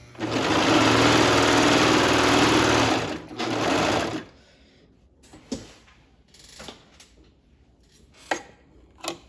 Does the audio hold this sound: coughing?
no